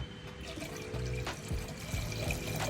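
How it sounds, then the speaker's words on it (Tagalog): Water poured from a tap into a cocktail pitcher for a grasshopper cocktail, a steady, fairly quiet splashing and gurgling stream that runs throughout with no talk. "Add natin ng tubig."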